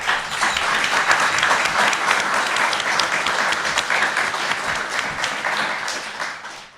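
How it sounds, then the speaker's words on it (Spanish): Live audience applause in Vigo, a dense, steady wash of many hands clapping, loud and sustained for several seconds before tapering off at the end, with no speech over it. "Un aplauso, por fin."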